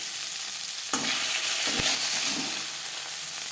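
Fish heads fry in hot oil in a wok, a steady bright sizzle broken by a couple of sharp knocks and scrapes as the pieces are stirred and turned over.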